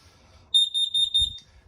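Propane leak alarm inside a Salem FSX 179DBK travel trailer sounding four loud, high-pitched electronic beeps in a steady rhythm, with faint low rumble underneath.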